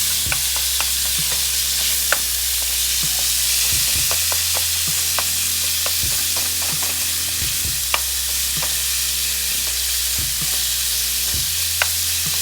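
Ingredients are stirred and tossed on a hot surface while cooking Japanese hibachi at home: a constant sizzle of frying food, broken by frequent sharp scrapes and taps of a utensil.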